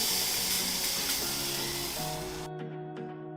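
A rib eye steak sears over high heat on a Weber Q grill, giving a steady loud sizzling hiss over soft background music. The hiss cuts off abruptly after about two and a half seconds.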